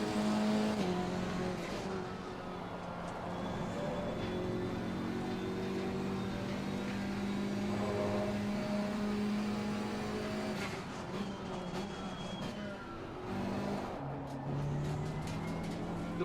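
A GT4 race car engine in Assetto Corsa Competizione roars at full throttle in first gear at Silverstone, a loud, sustained buzzing drone that holds for long stretches, with brief dips and pitch changes near the end.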